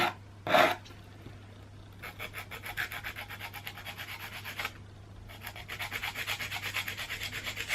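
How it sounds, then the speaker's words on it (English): A nail file scrapes across an acrylic nail fitted on a practice training finger, making close, raspy back-and-forth strokes in rhythmic bursts with a few short pauses between them. "Start filing."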